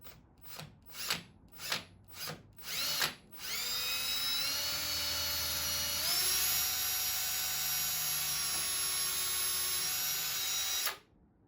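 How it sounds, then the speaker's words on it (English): A power drill bores out an epoxy plug inside a graphite golf club shaft to clear a vent hole. Several short trigger bursts come first, then a long, steady, close high-pitched whine whose pitch steps up once before it stops abruptly. "went to drill out the shaft to get the epoxy out so we had a good vent hole"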